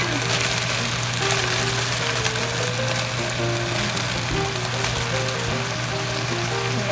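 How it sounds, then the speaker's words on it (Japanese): Bean sprouts stir-fry in a hot pan for kimchi fried rice, giving a steady, close, even sizzle that runs without a break, with soft background music underneath and no speech. "もやしから炒めます。"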